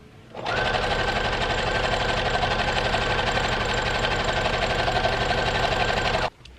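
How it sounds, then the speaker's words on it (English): A sewing machine stitches a small Christmas sweater for a Grogu doll in one steady, loud, continuous run of rapid stitching that starts and stops abruptly. "I'm just quickly sewing this up together so it's not going to be perfect"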